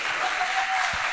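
Audience in a studio living-room talk show gives brief, steady applause, a dense wash of clapping with no distinct individual claps.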